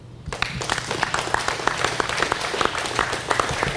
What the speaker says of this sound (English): join me in giving a big congratulations and applause to Trooper Joshua Dura.